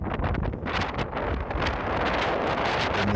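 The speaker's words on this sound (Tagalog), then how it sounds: "Ang lakas ng hangin dito." Strong wind roars continuously across the microphone at the top of a volcano, a loud buffeting rush with gusts throughout and no speech.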